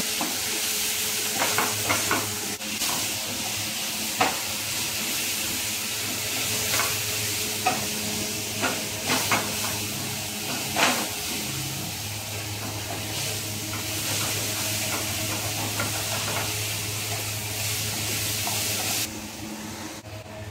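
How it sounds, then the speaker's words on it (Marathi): Bitter gourd seed chutney being stirred in a pan, with a steady soft sizzle and scraping strokes of the spoon throughout, fairly close and with no talking. "आता चटणी टाकत आहे याच्यामध्ये, ते चांगले फिरून घ्यायची, मिक्स करून"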